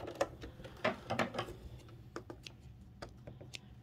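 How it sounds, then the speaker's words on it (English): A sewing machine stitches quilt pieces for a Wedding Ring quilt with a quarter-inch seam, heard close up as quick bursts of rapid mechanical ticking with brief pauses between runs. "And just sew 1/4 inch all the way to the end."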